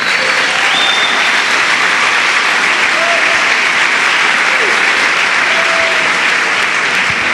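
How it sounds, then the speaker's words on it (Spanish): Loud, sustained congregational applause fills a church service, a dense steady wash of many clapping hands that holds evenly throughout with no pauses. "Denle un fuerte aplauso al Señor."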